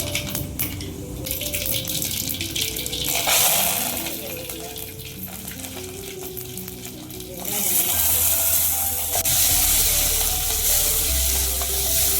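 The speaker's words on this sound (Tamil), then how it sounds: "எண்ணெய் சூடாகிடுச்சு. வெந்தயமும் கடுகும் போட்டுக்கலாம்." Fenugreek and mustard seeds sizzling in hot oil in a pan for fish kulambu, a loud continuous crackling sizzle with stirring, building louder partway through, while a voice talks and music plays underneath.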